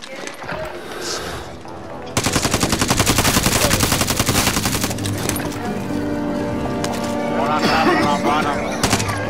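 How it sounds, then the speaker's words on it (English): Rapid automatic gunfire from Call of Duty: Modern Warfare breaks out after a quieter opening and keeps up in dense, loud bursts, with voices calling out over the shooting. "Receiving hostile fire."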